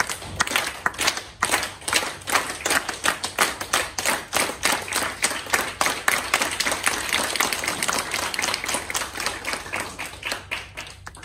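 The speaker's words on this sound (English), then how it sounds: "We're gonna clap again" A room full of people clapping together, a dense, continuous patter of many hands that carries on for several seconds with no talking.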